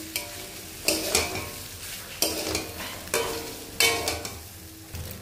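Pasta being stirred in a frying pan, with several sharp scraping strokes at roughly regular intervals over a soft, continuous sizzle, close and fairly quiet, no voices.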